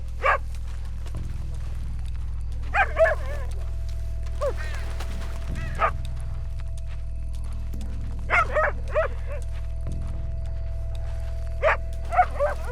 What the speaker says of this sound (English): It's just a dog.